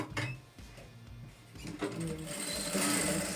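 A sewing machine stitches a quilting design on a bustier, starting with a few short stuttering bursts and then running into a steady, rising whir. It is close and clear, with barely any voice.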